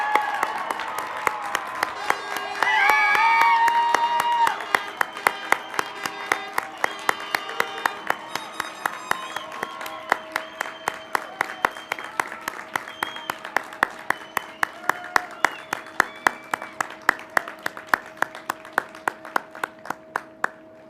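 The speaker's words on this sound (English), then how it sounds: "I want to hear a larger round of applause for our graduates." An audience at a 2021 graduation ceremony applauds the graduates, a dense round of clapping with brief cheering that swells early and then thins to scattered claps, with faint voices underneath.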